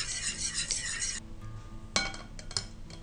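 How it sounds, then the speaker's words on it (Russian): Kefir dough being stirred in a bowl after salt, sugar, sunflower oil and beaten eggs are added, giving a steady scraping and swishing with a couple of sharper clinks against the dish, close and moderately quiet. "и хорошо перемешиваем"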